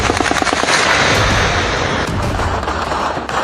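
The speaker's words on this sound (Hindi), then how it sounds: "ओए पहला फायर, दूसरा फायर, तीसरा फायर, फिर गोलियां गिनने का समय नहीं दिया गया।" Rapid, dense gunfire from a Pakistan-occupied Kashmir protest crackles continuously, loud and close, with repeated shots blurring into one sustained barrage.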